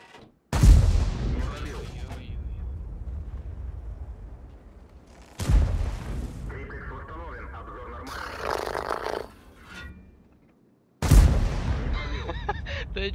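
Tank cannon shots in World of Tanks, an Obj. 277 duel: three heavy booming blasts spaced several seconds apart, each trailing into rumbling decay, with brief mechanical sounds between and talk over it.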